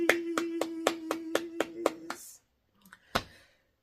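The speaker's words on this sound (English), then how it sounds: "So let's give a big clap offering to DHA on this." A short burst of hand clapping, about nine crisp, evenly spaced claps close by, then a pause and a couple of scattered claps and taps near the end.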